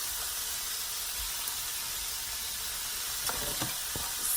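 Thinly sliced steak and onion frying in a pan for Philly cheesesteak stuffed peppers, a steady soft sizzle throughout with a few small clicks of stirring near the end.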